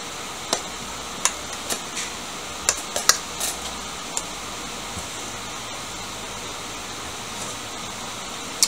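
A spoon mixing a bulgur kubbeh mixture in a bowl, giving sparse, irregular clinks and taps against the bowl over a faint, steady background hiss, with long quiet gaps between strikes.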